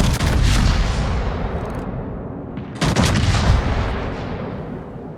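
Main battery guns of the battleship Musashi fire in a naval combat video game: two heavy booming salvos about three seconds apart, loud and close, each trailing off in a long rumbling decay.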